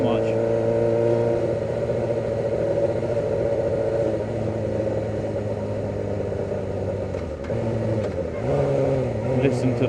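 A 500cc motorcycle engine runs steadily at a loud, close rev for the full stretch, its pitch dipping and climbing again near the end as the throttle is worked.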